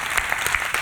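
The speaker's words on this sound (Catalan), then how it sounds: "Un aplaudiment per aquesta persona." Short burst of audience applause at the Cruïlla music festival in Barcelona, a dense steady patter of many hands clapping at close range with no speech.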